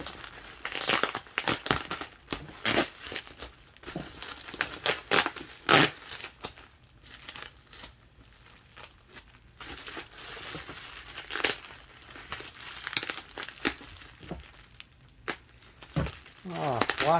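Crinkling bubble wrap and packing tape being torn and pulled while a box of Lego is unpacked, a steady run of crackly rustles and rips close by, with a person talking intermittently over the handling.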